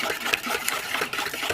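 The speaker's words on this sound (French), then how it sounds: "on va bien sûr fouetter tout ça" Mixture being whisked in a bowl for toast preparation, a fast continuous rhythmic whirring and clicking, close and steady without speech.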